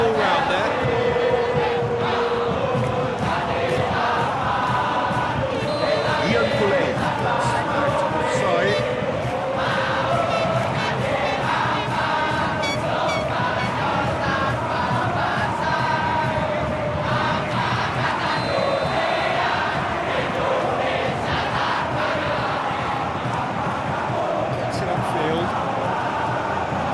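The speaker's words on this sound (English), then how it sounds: "Crowd appreciates good football all round there." Simulated stadium crowd noise from a virtual football match between Persib Bandung and Arema FC keeps up a constant dense roar with chanting throughout, while a commentator talks over it.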